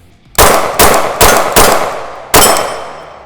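Five loud, sharp shots from a KRISS Vector in 10mm at close-range targets, spaced unevenly over about two seconds, each with a hard crack and a short ringing decay.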